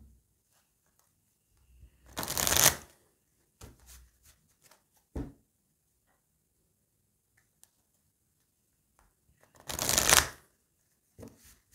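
Oracle cards shuffled by hand in two short, crisp riffling bursts a few seconds apart, close and fairly quiet, with soft handling taps between them and otherwise near silence.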